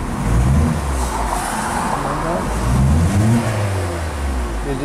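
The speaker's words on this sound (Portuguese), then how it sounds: "Deixa eu dar uma acelerada aqui para vocês verem o giro." A Nissan Livina's idling engine is revved in the workshop after a wiring-harness short circuit repair. It swells through a couple of loud, close rises in engine speed with no talking.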